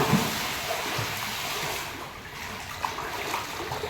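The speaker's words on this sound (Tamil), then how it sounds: "அதுலேருந்து தண்ணி ஊற்றுற சத்தம் ரொம்பவே நல்லா இருக்கு" Steady rushing water pours and splashes continuously into a swimming pool, a broad hiss with small splatters, fairly close and with no voices.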